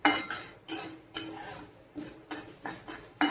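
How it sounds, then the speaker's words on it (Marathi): White sesame seeds dry-roasting in a pan, stirred with a metal utensil: a string of sharp, close scraping clinks at an irregular pace, about eight strokes, with no voices. "आता हे सफेद तीळ आहेत ते भाजून घेते"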